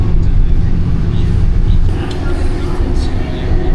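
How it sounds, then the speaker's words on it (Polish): A tram rumbles along on rails with a steady low roar and faint squeals, heard from inside the vehicle. "ten tramwaj jedzie, przynajmniej na początku, bardziej tak po torach wydzielonym torowisku"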